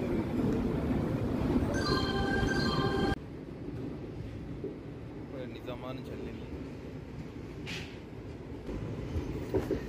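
Passenger train travelling just after leaving Nizamabad station, a steady rumbling rolling noise heard from inside a carriage, with people talking over it.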